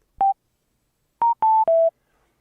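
Cardo Packtalk Edge intercom headset giving its group-mute confirmation: one short electronic beep, a pause, then three quick beeps with the last one lower, clean and alone.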